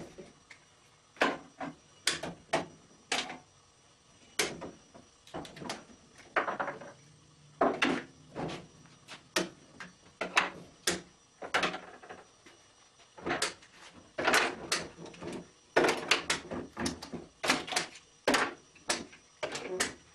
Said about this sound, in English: So what I'm going to do is go ahead and take off all these clamps and see how it looks.